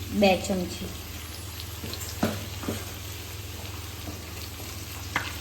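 Ginger, chili and garlic paste stirred into spices frying in oil gives a soft, continuous sizzle with a few scraping spoon taps, while a voice talks briefly at the start.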